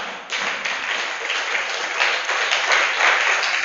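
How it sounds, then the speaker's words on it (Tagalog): Light applause from a church congregation, a sustained even patter of many hands at moderate level that grows slightly toward the end, with no talking. "Mahina ang palakpak."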